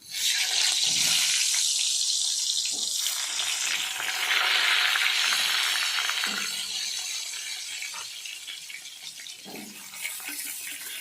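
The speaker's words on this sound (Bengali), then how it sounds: "এবার বেগুনটা ভেজে নেব।" Eggplant slices frying in hot oil in a pan, a loud, bright continuous sizzle with a few faint clacks and scrapes of a utensil, gradually easing slightly toward the end.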